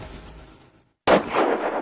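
A single gunshot fired inside a house toward the edge of a door frame: after a brief silence, one sudden loud crack followed by a booming echo that rings through the rooms.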